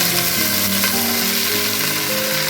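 Okra frying in a pan, a dense, loud, continuous sizzle heard up close with steady hissing texture and no voices.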